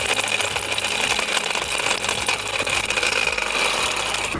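A honey extractor spins honeycomb frames hard, giving a steady, close mechanical whir with a faint high whine and rattle, running continuously with no voices.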